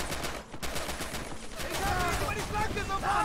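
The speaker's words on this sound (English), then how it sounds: "We see machine guns coming through." Machine gun fire rattles in rapid bursts in the World War II strategy game Men of War: Assault Squad 2, mixed with other gunfire and battle noise, while a player talks over it.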